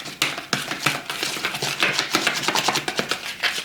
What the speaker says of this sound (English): So I'm going to mix all this up together